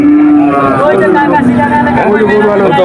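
A cow moos loudly and close by at a crowded cattle market, one long drawn-out bellow filling the moment with other market noise beneath.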